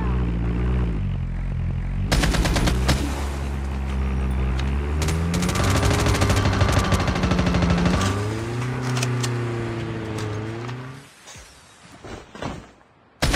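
Gunfire in Call of Duty Mobile battle royale plays over a droning aircraft-like engine hum, with loud bursts of rapid automatic fire in the middle before fading to scattered sounds.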